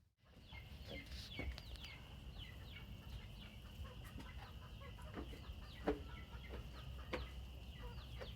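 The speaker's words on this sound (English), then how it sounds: "Look at these chickens. They're called jungle fowl. The original chicken." Jungle fowl cluck softly and intermittently amid a busy outdoor backdrop at the Atchafalaya wildlife management area, with scattered short calls and a steady high insect-like hum.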